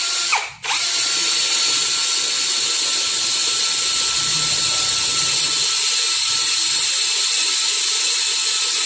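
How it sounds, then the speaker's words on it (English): A cordless drill with a tungsten carbide bit grinds into steel, a steady high whine that runs continuously after a brief click at the start, with no voices. "So let's try to use this to drill through steel, okay?"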